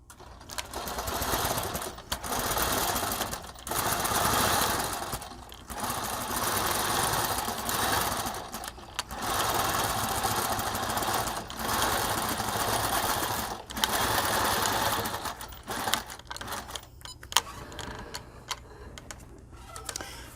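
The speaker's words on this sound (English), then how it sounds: "I've disengaged my channel lock, so I can now stitch down the left side." A longarm quilting machine stitches a quilt with a steady mechanical whir and rapid needle ticking, running in bursts separated by short pauses, close and loud with no talking.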